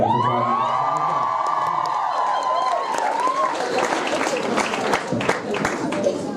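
Live concert crowd at a show in Hamburg, clapping and cheering with whoops, a dense wash of applause following a sustained musical tone fading out.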